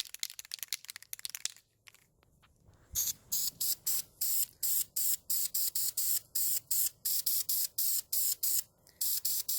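After a short rattle, a spray paint can hisses in a steady series of quick, evenly spaced bursts onto a tumbler, each a close, sharp spurt of spray.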